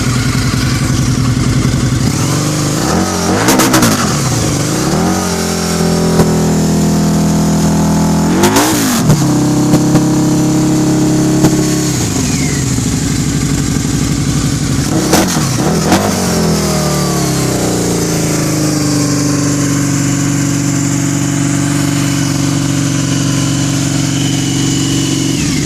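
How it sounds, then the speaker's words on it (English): A 2003 Harley-Davidson V-Rod VRSC engine idling close by and revved in several sharp bursts that rise and fall back to a steady loud idle. "Let's go rev it up a little bit,"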